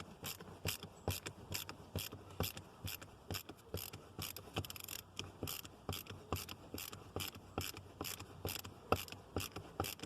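Steady ratcheting clicks from a hand ratchet backing out screws of a big bronze boat bow cleat, a quick regular rhythm of sharp close clicks repeating throughout with no talk.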